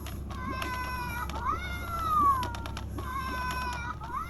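An electronic cat meowing from a Halloween yard display on a graveyard fence, several drawn-out meows and a long rising-falling yowl over a steady low hum, fairly close and clear.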